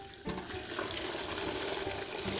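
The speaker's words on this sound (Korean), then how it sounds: "소금물을 펄펄 끓여가지고 오이에 바로 부어주세요." Boiling salt brine is poured over cucumbers to make oiji, a steady close splashing gush of liquid that runs continuously for a couple of seconds.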